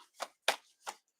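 Tarot cards being shuffled by hand: three short, crisp riffling bursts spaced evenly apart, close and fairly quiet with silence between them.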